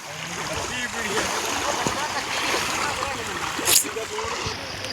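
Floodwater waves wash and splash through flooded villages near Dera Baba Nanak, a steady broadband rush with a brief louder surge near the end and voices beneath it.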